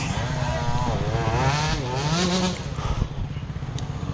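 A dirt bike engine idles roughly and sputters while stuck in thick mud during a hare scramble trail race, its uneven running close and loud, with clattering toward the end.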